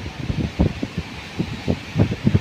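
Strong wind sweeps through trees in gusts, a broad rushing roar swelling and easing in repeated low buffeting surges, loud and close, with wind hitting the microphone.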